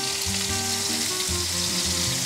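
Beef patty frying in butter with thyme in a pan, a dense, loud, continuous sizzle, close up, with faint low background music underneath.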